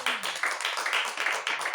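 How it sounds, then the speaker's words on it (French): A church audience claps for a woman, quick uneven handclaps in a steady patter, close and moderately loud, with no speech over it. "Applaudissez pour elle"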